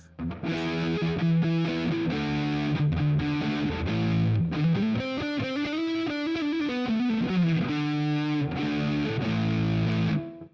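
A Squier HM III super-strat electric guitar played through distortion on its neck pickup alone plays a sustained melodic riff with bends and repeated chords, loud and continuous with no talk.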